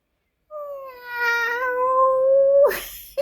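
A single cat gives one long, drawn-out meow close to the microphone, rising and wavering before breaking off into a short rustle.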